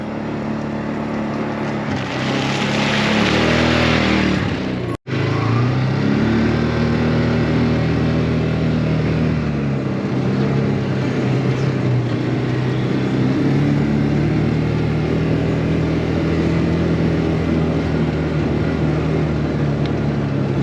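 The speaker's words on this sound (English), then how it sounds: "we'll let this Ranger warm up for just a second here" A Ranger utility vehicle engine idles as it warms up on a farm, a steady mid-pitched drone close by with a brief gap and slight shifts in tone.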